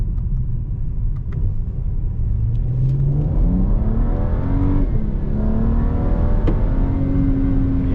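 BMW E92 coupé accelerating hard, engine revving up through a rising pull with a brief dip as it shifts, then climbing again, a loud continuous rumble from inside the car.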